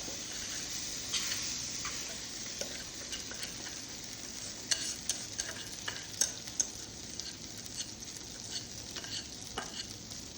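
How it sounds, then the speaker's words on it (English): Cornbread batter sizzling and crackling in a very hot pan, a steady hiss with scattered sharp pops and ticks throughout, close up with no talking. "it also is going to sizzle because this thing is really hot"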